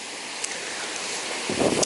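Fast-flowing stream water on a walk near Slaughterhouse Combe rushes as a loud, continuous roar with some gusty, wind-like buffeting and a stronger surge near the end.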